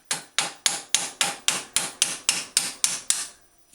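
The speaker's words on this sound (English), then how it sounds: "just take a piece of steel or something, jam it down in there, catch the edge of the bearing race" Eleven evenly spaced, sharp metallic hammer blows drive a piece of steel against a bearing race in a reproduction Schwinn springer fork, close and loud with no talk.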